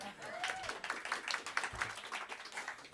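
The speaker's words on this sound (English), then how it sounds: "You're allowed to clap." Scattered, quiet clapping from a small audience at a livestreamed concert, uneven claps rising and falling for the whole stretch, with faint voices mixed in.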